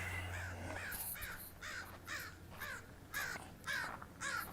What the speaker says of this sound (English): Of course, there's a crow. There's always a crow.